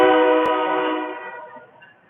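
A passing train sounds its horn, a loud sustained multi-tone blast that starts at full strength and fades steadily over about two seconds as it moves away.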